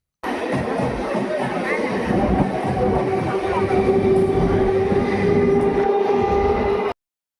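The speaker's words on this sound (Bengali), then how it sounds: "ট্রেন যথাসময়ে আমার নামিয়ে দিল আমার গন্তব্য স্টেশনে" A Bengal passenger train rumbles on rails as it runs into a destination station near Shibpur Ghat, a loud, sustained roar with a steady high whine over the wheel noise and no speech.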